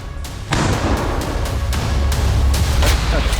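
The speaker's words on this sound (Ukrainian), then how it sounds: "Постріл!" A series of sharp booming artillery shots, several in quick succession over about three seconds, loud and fairly close against a rumbling outdoor background.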